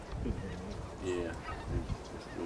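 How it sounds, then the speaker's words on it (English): A line of geese honks in short calls at a moderate distance, fairly faint, with a little low background noise. "Nice little geese line."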